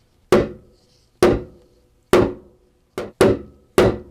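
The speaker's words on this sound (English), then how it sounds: "it has some shot inside the mallet head itself so that it eliminates a lot of that shock, and it does a good job of setting the frets." A shot-filled mallet taps guitar frets into the fingerboard six times, each blow a sharp, close, dull knock that dies away quickly, spaced irregularly with quiet gaps between and no talking.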